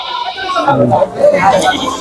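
At a roadside cattle market in Deohata, Tangail, goats give a couple of wavering bleats that blend into steady, loud nearby conversation.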